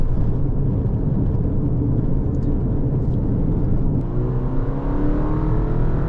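A lifted 2021 Subaru Forester pulls away from a dead stop, heard from inside the cabin. The engine rumble is loud and steady with heavy road and wind noise, and the pitch climbs gradually as it gains speed, with no talking.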